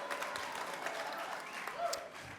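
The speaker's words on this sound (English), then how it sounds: "we have such a huge crowd tonight" A large crowd claps at a live radio show held in a museum, dense steady applause that sounds somewhat distant and fills the room, with some voices mixed in.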